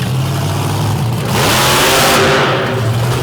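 A monster truck engine roars loud and close at a Madison arena show, a sustained rising rev that swells sharply midway through a wheelie run on concrete.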